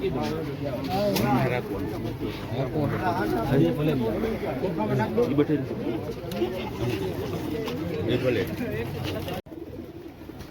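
Teddy pigeons coo steadily throughout, a soft continuous chorus of birds close by, with people talking over them most of the time.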